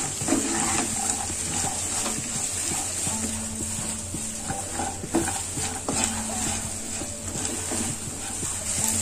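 Okra stir-fry being stirred in a pan with little oil, with continuous scraping, stirring and soft sizzling close by, steady throughout without any voices.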